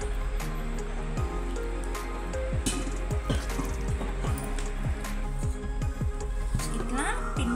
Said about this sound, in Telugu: ఇట్లా పిండి మంచిగా ముద్ద రావాలి.